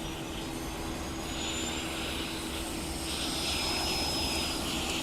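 Fokker F28 jet engines in Microsoft Flight Simulator 2024 give a steady, sustained whine and roar with a faint rising high tone, constant and moderately loud with no talk over it.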